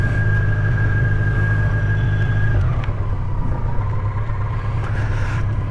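The engine of a BMW K1200LT touring motorcycle hums loudly up close, then drops pitch and settles into a lower steady drone as the bike is put into gear and pulls away.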